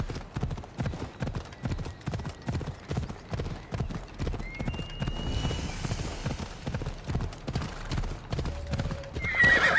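Horse hooves clip-clop in a steady trotting rhythm with an occasional whinny in Assassin's Creed Odyssey, The Fate of Atlantis, fairly close and prominent over game ambience.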